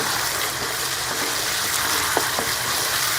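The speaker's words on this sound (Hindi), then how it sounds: "हम मसाले को कलेजी के साथ अच्छी तरह से भून लें" Kaleji (goat liver) fries with masala in a kadai, giving a steady, close sizzle that runs unbroken under a couple of faint utensil taps.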